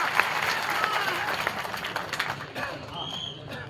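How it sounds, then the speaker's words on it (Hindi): A crowd at a tribal rights rally claps and cheers in a dense burst of applause, loud at first and slowly thinning out, with voices calling out over the clapping. "उनके लिए तालियां बजाइए।"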